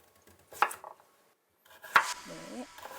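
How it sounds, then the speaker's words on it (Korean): A kitchen knife chops on a cutting board in a few separate sharp strikes, close and fairly loud, with a short quiet gap between bursts and faint background noise. "칼질을 해보시겠어요?"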